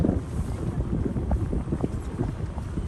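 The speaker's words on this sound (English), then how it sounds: "Our engines are doing a low thrumming and humming." Boat engines on an Alaska whale-watching trip give a steady low thrum and hum, blended with wind buffeting the microphone, continuous and fairly close throughout.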